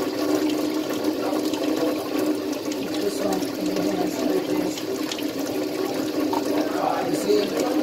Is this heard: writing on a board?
no